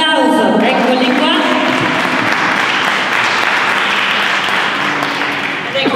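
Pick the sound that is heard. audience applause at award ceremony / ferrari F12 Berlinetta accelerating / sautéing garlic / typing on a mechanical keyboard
audience applause at award ceremony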